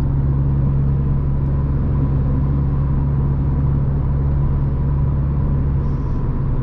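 A diesel Peugeot 208 1.4 HDi drives on a highway beneath a bridge road, with a loud, steady engine drone and road rumble from inside the cabin and no speech.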